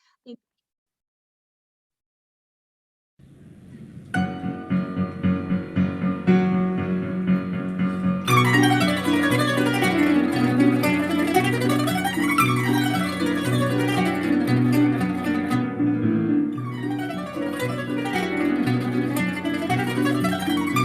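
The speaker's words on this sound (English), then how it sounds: "the cutest little girls playing Canon, which is also a very Armenian instrument" An Armenian qanun zither ensemble of young girls plays a bright, busy melody with rippling runs and a steady low pulse, entering after a few seconds of silence and building fuller.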